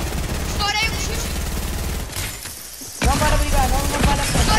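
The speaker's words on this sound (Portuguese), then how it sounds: "Estourei um tiro." Gunfire in a first-person shooter match, with a sharp shot burst followed by a second louder volley of cracks and rapid impacts, while players talk over the action throughout.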